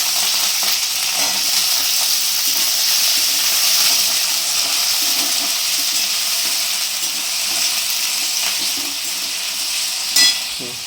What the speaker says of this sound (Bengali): সবজিগুলো এক এক করে ছেড়ে দেবো, একসাথে ভেজে নেবো